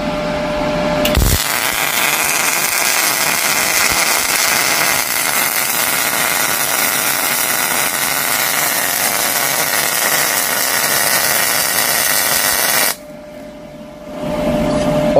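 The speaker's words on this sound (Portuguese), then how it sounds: "Com a MIG não vai ser diferente, é um arame, ele vai soldar." MIG wire welding without shielding gas runs as a steady, loud, harsh crackling buzz for about twelve seconds, then cuts off abruptly, with no one talking over it.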